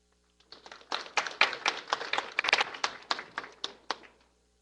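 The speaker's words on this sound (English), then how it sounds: "The crowd acknowledges a nice combo by Efren Reyes." Crowd applause at a professional one-pocket pool semifinal, a burst of clapping from an audience that starts abruptly, holds steady for about three and a half seconds, then tapers off. No voices are heard.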